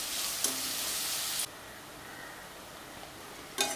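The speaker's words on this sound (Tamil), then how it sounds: "வெங்காயம் நல்லா வதங்கட்டும்" Onions sautéing in a pan for a ridge gourd and prawn gravy hiss in a steady, close sizzle that suddenly drops quieter partway through, then flares up again briefly at the end.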